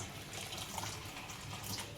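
Hot water pours over sago soaking in a bowl, a soft, steady splashing stream heard close and fairly quiet, with no talking.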